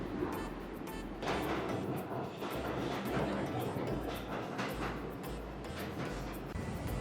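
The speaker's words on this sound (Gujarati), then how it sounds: "હવે ટ્રેન આવવાની છે અમારી" A train pulls into a station in America, heard as a steady low rumble and faint clatter from some distance, holding at an even level throughout with no voices over it.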